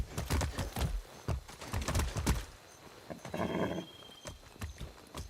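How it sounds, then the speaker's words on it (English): Horse hooves clip-clopping in Far Cry 6, a quick run of close hoofbeats followed by a short snort or whinny and a few slower steps, no talk. "That's a good horse."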